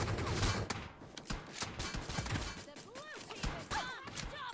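Pistols fire in a fast online shooter game, giving rapid sharp cracks in bursts mixed with thuds and whizzing effects, while voices talk over the action.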